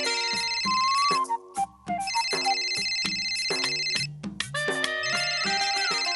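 A telephone ringtone plays in a home, a loud electronic melodic ring in repeated phrases separated by brief pauses, sounding alone with no talk over it.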